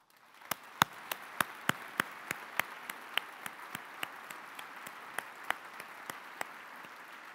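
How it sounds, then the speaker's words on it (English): At an arts convocation, steady single claps ring out close and crisp about three times a second over a faint background of scattered audience applause, with no one speaking. "Please join me in a round of applause for the Smithsonian Folklife Festival team"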